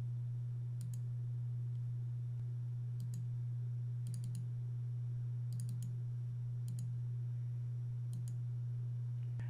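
Faint, sparse computer mouse clicks come singly and in quick pairs over a steady low electrical hum.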